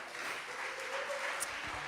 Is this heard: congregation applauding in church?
yes